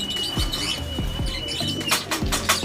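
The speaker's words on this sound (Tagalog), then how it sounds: "Ayun yung ibon." Pigeons inside a racing-pigeon loft give repeated low coos in a rhythmic series, with light chirps and rustling around them, close and fairly loud.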